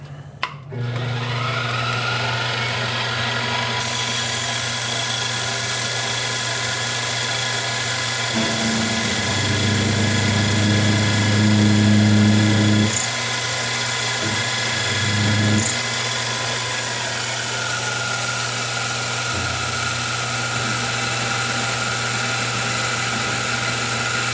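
A milling machine runs a cutter 1/8 inch into a keyway broach blank, a loud, steady motor whine with a constant drone that shifts in pitch as the cut starts and stops, with no talking.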